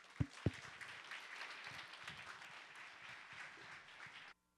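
A church congregation at a Sunday worship service claps loudly to welcome an elder to the front: a couple of sharp claps open into sustained, dense applause that holds steady, then cuts off abruptly.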